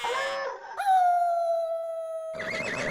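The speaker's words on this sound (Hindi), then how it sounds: "अरे पण जेठा भाई, एवी रीते कुत्ता किसी को काटेगा?" A dog howls loudly and up close in a comedy scene, one long sustained, slowly falling howl after a brief lead-in, then more sound over its tail.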